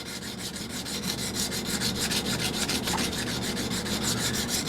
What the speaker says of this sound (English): take that diamond hone and just hone that edge